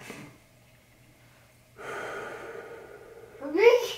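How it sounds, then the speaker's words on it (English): Deep controlled breathing during a breathing exercise, a slow drawn-in breath followed by a long smooth exhale and a sharper intake at the end, close and fairly quiet with no talk. "deep breaths in"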